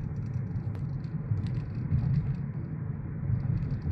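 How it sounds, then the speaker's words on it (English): Low rumbling road noise of street traffic on the Las Vegas Strip, steady and continuous with a dull engine drone, heard from inside a moving car. "Still street traffic."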